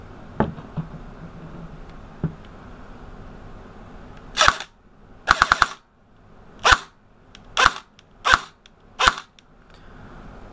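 Airsoft AK47 with a faulty selector switch firing several sharp bursts and single shots, loud and close, after a quiet stretch of faint handling clicks; no talking.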